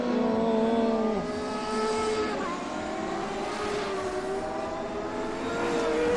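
CART Champ Car race cars pull away and accelerate at the Monterrey Grand Prix, several high-pitched engines rising through gears together, loud and close, with overlapping whines sweeping upward.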